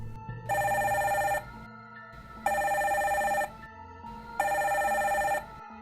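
An intercom phone rings loudly in three long electronic bursts separated by short pauses, with a faint low background hum between rings.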